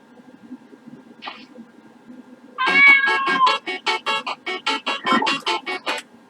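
A cat in the video game Changed lets out one short meow, then a rapid run of repeated loud, close meows and yowls, with no talk over it.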